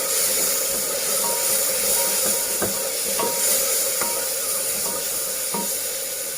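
Turmeric and coriander powder are stirred into frying ridge gourd and potato, giving a steady loud sizzle and hiss with a spoon scraping and tapping the pan at irregular intervals.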